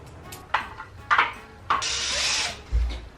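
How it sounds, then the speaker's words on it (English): A power drill bores into a wall while shelves are being put up. It comes in short bursts, then one longer whirring run, up close and with no talk. "I have to drill"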